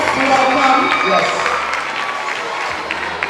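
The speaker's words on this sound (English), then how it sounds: "Let's clap for them. Clap for them." An audience claps for top performers at a television show, a dense, loud burst of applause with crowd noise and voices speaking over it that gradually tapers off.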